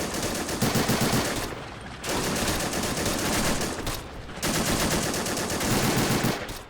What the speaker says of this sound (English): Japanese machine guns.